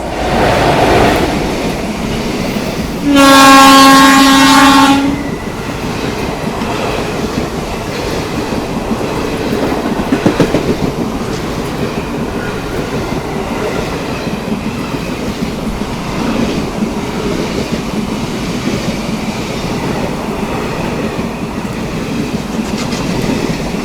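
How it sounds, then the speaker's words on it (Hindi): The Mangalore–Surat Express passes behind a WAP-4 electric locomotive in monsoon weather on the Konkan line. A loud horn blast opens over a steady, close roar of rolling coaches and wheel clatter that lasts throughout. "सामने से आ रही है आप लोगों की मैंगलोर सूरत एक्सप्रेस आती हुई वैप 4 लोकोमोटिव के साथ।"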